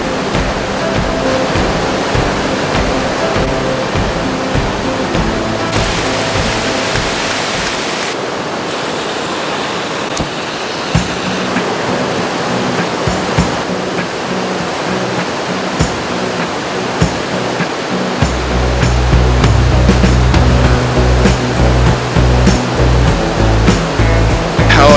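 A river rapid in the Yukon wilderness roars in a loud, unbroken rush of white water, close and steady for the whole stretch with no voices.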